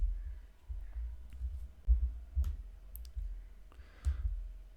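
A few sharp, faint mouse clicks on a hyperlink in a Microsoft Excel spreadsheet, sparse single taps heard over a low hum with no voices.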